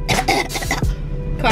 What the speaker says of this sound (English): coughing for days